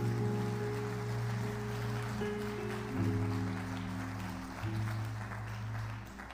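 A church congregation claps and applauds during a service, a steady wash of hand claps beneath sustained music that holds throughout.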